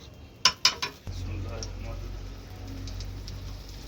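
Utensils clink sharply against a pan a few times while deep-fried chicken shami kababs are turned, followed by a steady low sizzle of hot oil.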